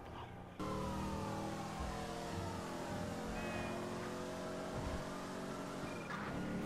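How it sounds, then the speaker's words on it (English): A car engine in the video game GTA V revs loudly and continuously, its pitch climbing steadily over several seconds after a brief quiet start. "Sound of that engine, though. Beastly."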